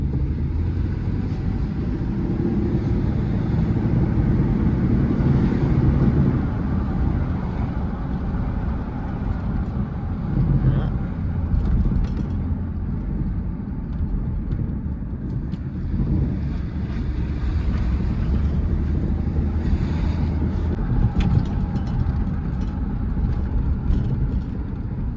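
Continuous low engine rumble and road noise of a truck driving, with buffeting wind across the microphone throughout.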